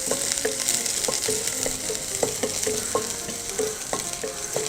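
Chopped shallots frying in hot oil with mustard seeds, crackling steadily while a utensil scrapes and taps the pan in a loose repeating rhythm, close and moderately loud with no talk.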